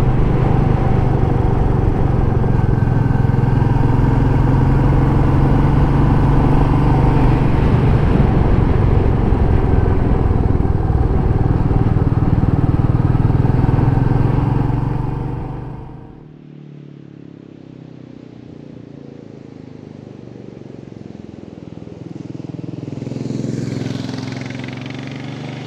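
A Royal Enfield Meteor 350 motorcycle with preload-adjusted rear shock absorbers rides along with a loud, steady engine drone and wind rush for about fifteen seconds, then drops to a quiet low rumble.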